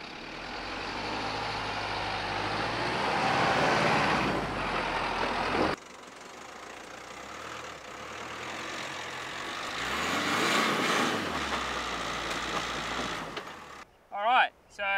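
Vehicle engine revving while one wheel spins without traction, loud rising and falling engine roar heard close over two long bursts, ending in rustling and clunks; a person talks.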